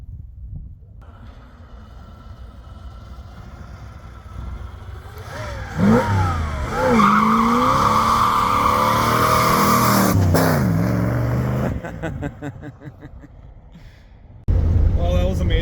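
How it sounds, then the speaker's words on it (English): A 1987 Firebird with a cammed Chevy 350 roars loudly up close as it lays rubber on drag slicks, the engine revving hard and rising in pitch over a tire squeal, then cutting off before a fresh burst. "She laid some rubber."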